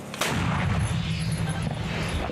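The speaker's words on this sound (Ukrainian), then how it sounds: "Постріл!" A single sharp gunshot cracks out, followed by a lingering low rumble of distant gunfire.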